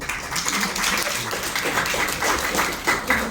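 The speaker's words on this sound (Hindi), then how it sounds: "तालियां।" An audience at a women's digital marketing empowerment event claps steadily for a few seconds, a moderately loud patter of many hands with no voices over it.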